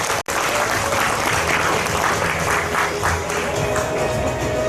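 Audience applause greets a session chair being invited to the stage at a conference on climate-friendly school meals, a steady dense clapping that carries throughout after one brief dropout near the start.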